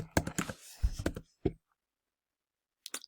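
Typing on a computer keyboard, a quick cluster of clicky keystrokes in the first second and a half, then quiet, with a couple more key taps at the end; close and fairly soft.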